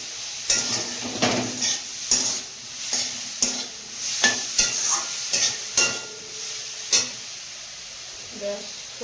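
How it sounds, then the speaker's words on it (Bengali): Soybean chunks fry in a spice masala while a spatula stirs them, producing a loud, close sizzle with repeated scraping strokes against the pan at an uneven rhythm. "সয়াবিনগুলো মশলার মধ্যে দিয়ে দিচ্ছি। সয়াবিনটা আগে ভেজে নিয়ে রান্না করি"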